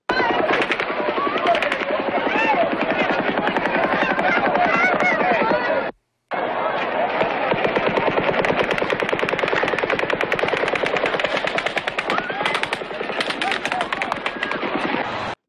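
Sustained rapid gunfire from multiple shooters, loud and continuous, with a brief silent break near six seconds before the dense volleys resume, thinning toward the end as a single gun.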